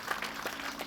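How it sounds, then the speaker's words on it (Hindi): Audience at a spiritual gathering applauds an introduced guest, a brief burst of dense clapping from a large crowd. "एक बार उनके लिए भी ताली बजाएं।"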